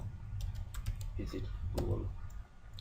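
Keys clatter on a computer keyboard while HTML is being typed, in a short run of quick clicks under a voice talking quietly nearby.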